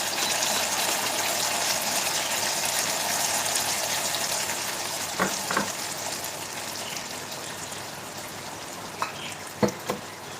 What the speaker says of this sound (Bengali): এবার আমি এর মধ্যে অ্যাড করছি গরম জল।